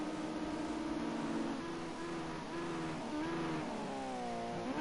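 A Ginetta Junior race car laps Oulton Park circuit, its engine note rising and falling through gear changes as it brakes and accelerates out of a hairpin, heard at a moderate distance and fairly faint.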